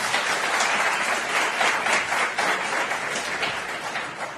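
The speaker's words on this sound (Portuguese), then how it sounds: "Você pode aplaudir o Senhor?" A church congregation applauding during a worship service, dense continuous clapping from a large crowd filling the room at steady volume with no talk.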